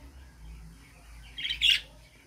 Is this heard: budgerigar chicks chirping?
yes